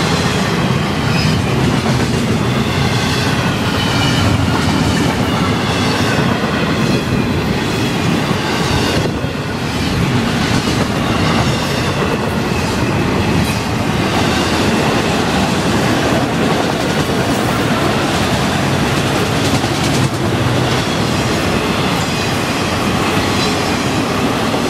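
An FEC freight train of container cars and auto racks rolls past close by, steady and loud, with continuous rumbling and rhythmic clickety-clack of wheels over rail joints and no break in the roar.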